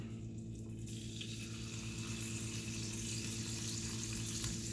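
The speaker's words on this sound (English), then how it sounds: "First thing I'll do is start with my bacon, because I do want the bacon to be cooked" Small pieces of bacon frying in a pan, a steady dense sizzle with a low hum underneath, close and continuous.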